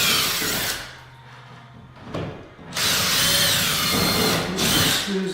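Cordless drill backing screws out of a ceiling fan mount, two loud whirring bursts with a short pause between them and a brief stop partway, running close and alone with no talk over it.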